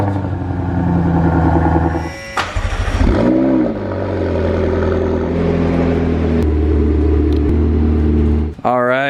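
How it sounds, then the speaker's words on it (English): Two V8s in turn, a naturally aspirated 4.7-liter and a twin-turbo 3.8-liter, start cold close by, each catching with a sharp flare and settling into a loud, steady idle, with a voice talking partway through. "So let's get two cold starts of two V8s."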